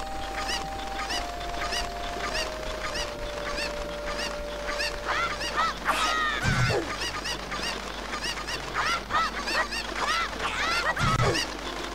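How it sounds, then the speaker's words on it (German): Squawking chickens in The Legend of Zelda: Ocarina of Time, a cluster of harsh honking fowl cries over steady game music, with louder bursts near the middle and end. "ich weiß gar nicht, wie man die Hühner vernünftig packen soll, weil er sofort losschlägt"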